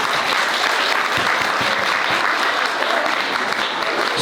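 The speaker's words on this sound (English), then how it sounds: "Let's give a round of applause to our young children." An audience at a Tibetan school's cultural show in London gives loud, sustained applause for a children's performance, steady dense clapping with a few distinct claps audible near the front.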